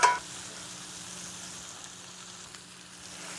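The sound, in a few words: short ribs searing in a pan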